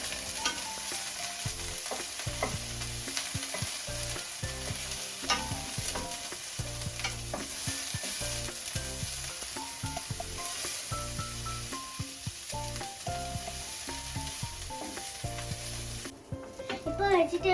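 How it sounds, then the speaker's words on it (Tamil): Vegetables for yaki soba sautéing in a hot pan, a steady close sizzle and frying hiss with constant stirring and scraping throughout, with no talk over it. "கொஞ்சம் வதக்கி விடலாம்."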